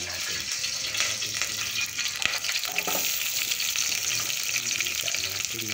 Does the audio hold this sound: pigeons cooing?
no